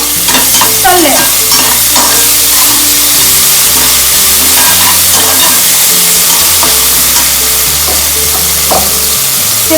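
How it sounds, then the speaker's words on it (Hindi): Ginger garlic paste hits hot oil with a loud, continuous sizzle and bubbling hiss, joined by scraping stir sounds from a utensil in the pan throughout. "इसके बाद हम 1 टेबलस्पून जिंजर और गार्लिक पेस्ट डालना चाहिए और ये तेल में तल लेना"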